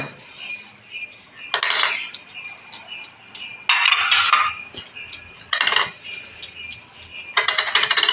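Metal clinks and scrapes come in four short bursts, about two seconds apart, as a metal idli mould is greased with ghee. Close, clear kitchen sounds with no talking.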